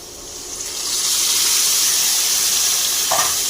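Yogurt hits a hot pan of paneer and poppy-seed gravy, setting off a loud, steady sizzle that swells after the first second and carries on close up with no talking, followed by a brief scrape near the end.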